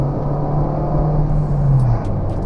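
An automatic car with sequential shifting climbing a hill road in second gear, its engine holding a loud, steady drone close by with the pitch rising slightly under throttle before easing off near the end.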